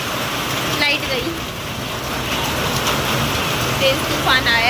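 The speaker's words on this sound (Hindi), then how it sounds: "तेज तूफान आया है।" Heavy rain falls hard during a strong storm, a loud unbroken roar of drops on surfaces with faint bird chirps breaking through now and then.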